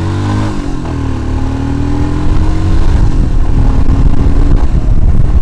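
A Royal Enfield Himalayan motorcycle engine revs loudly and close, pitch climbing and then holding a rough, steady drone during a test ride.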